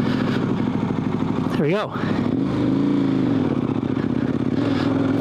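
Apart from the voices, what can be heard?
motorcycle pulling away in first gear up a hill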